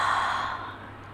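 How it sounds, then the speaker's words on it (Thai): A pregnant woman doing a side-stretch yoga pose breathes out in one soft, close, sighing exhale that fades over about a second. "และหายใจออก"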